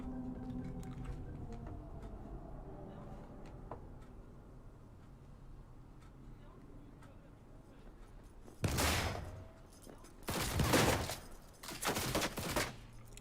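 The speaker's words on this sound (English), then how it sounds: "And watch all of the explosions." Frag grenade explosions in Cyberpunk 2077 burst out loud and close, a heavy blast followed by two more in quick succession, after a stretch of quieter game ambience and rumble.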